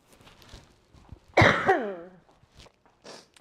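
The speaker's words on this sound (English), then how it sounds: "I'm gonna cough again." A single harsh cough close by, with a raspy throaty tail, surrounded by faint room noise and a few soft shuffling sounds.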